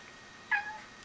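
A pet cat gives a single short meow, fairly close, over a faint steady background hiss.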